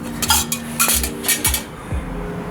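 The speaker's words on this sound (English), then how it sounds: "set your bottom base down, ensuring that's on flat, even ground" A metal Trangia stove base is set down on the ground with a few hollow clanks and metallic clinks, followed by a ringing scrape, close and crisp.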